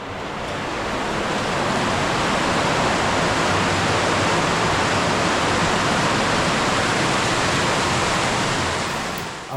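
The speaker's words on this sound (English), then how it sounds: "Walked out into the stream." Underground stream flowing through a cave, a dense, steady rushing of water that stays loud and unbroken from start to finish, with no voices.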